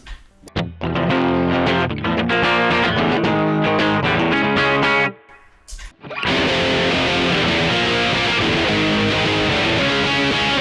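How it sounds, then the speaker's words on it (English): An electric guitar played through a Boss OD200 in Boss distortion mode gives loud, saturated chords and riffs, drops out briefly after about five seconds, then resumes with a sustained distorted chord ringing on. "onto the Boss distortion"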